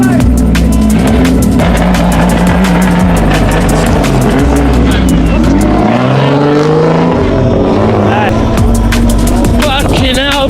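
Drift car on a competition run at a drift league event, its engine revving hard and droning loudly throughout with rising and falling pitch, tire noise and a voice talking underneath.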